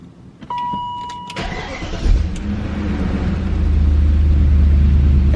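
A BMW E39 M5 engine cranks briefly after a few clicks and a chime, then catches and settles into a deep, loud rumbling idle close by, after an ignition coil replacement.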